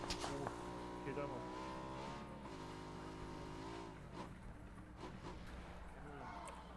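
Car engine in the video game PUBG Battlegrounds revs with a steady, droning tone throughout, mixed under players talking over voice chat.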